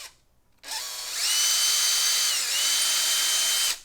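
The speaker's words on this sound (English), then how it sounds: "what you want to do is just run this drill" A power drill spins a bit through a drill guide while assembling a lung model, a steady high whine starting abruptly, holding for about three seconds with a slight dip in pitch midway, then stopping cleanly.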